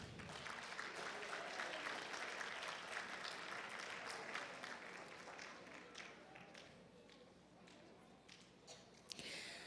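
An audience applauds at a neighborhood poster contest award ceremony for school students, dense clapping that is loud at first and gradually thins and fades.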